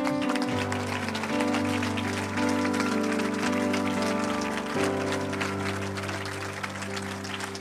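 A congregation at a youth vigil worship service applauds and cheers for Jesus Christ, a steady wash of clapping and crowd noise layered over sustained music throughout.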